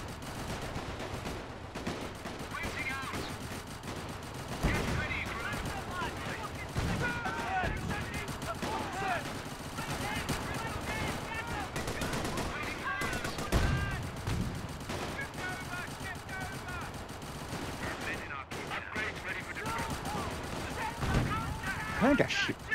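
Machine gun fire and other gunfire on a Company of Heroes battlefield set in the Great War of 1918, repeated bursts and sharp cracks with heavier impacts, kept under a continuous backdrop of voices and game chatter.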